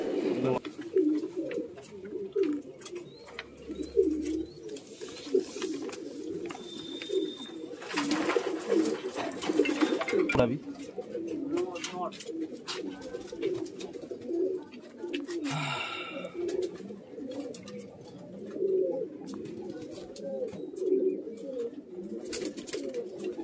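Pigeons coo in a steady low murmur throughout a pigeon house in Delhi, with scattered chirps and faint background voices and bumps.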